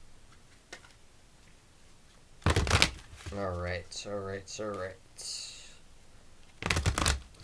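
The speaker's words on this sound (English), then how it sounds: "Two more shuffles." Two sharp bursts of tarot card shuffling, one early and one near the end, with a short spoken word between them.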